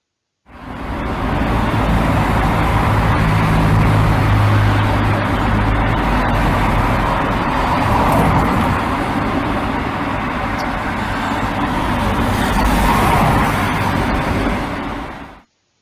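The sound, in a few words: recording of a car passing by in Toulouse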